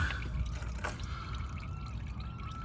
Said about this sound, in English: We got the transmission line unhooked, and the hose and stuff's just leaking out.